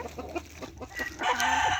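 Free-range backyard chickens cluck in short, irregular bursts close by, with one bird letting out a longer, drawn-out call near the end.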